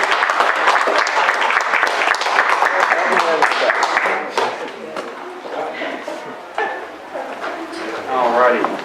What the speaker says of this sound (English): Round of applause for Daniel McTaggert